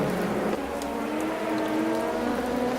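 Steady rain hiss fills a soaked race at the Mandalika circuit in a racing video game. A faint engine drone runs underneath throughout, at a moderate, distant level.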